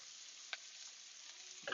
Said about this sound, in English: go ahead and give it a quick little toss